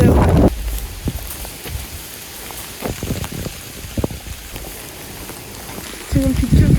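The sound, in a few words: heavy rain with wind on a walking trail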